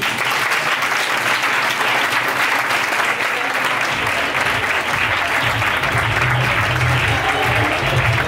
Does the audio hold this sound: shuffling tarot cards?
no